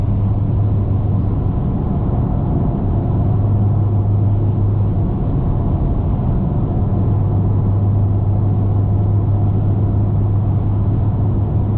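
A 480 hp BMW F30 335i cruising at about 80 on the highway in eighth gear, with a loud, steady low engine and road rumble inside the quiet cabin and a faint hum that wavers slightly.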